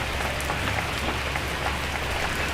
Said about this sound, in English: the rain didn't come in too hard